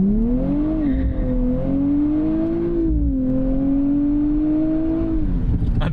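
A 2024 Nissan Z Nismo pulls hard under full throttle, its engine note loud and steady and rising in a sustained drone with a brief dip midway, captured up close with no one speaking.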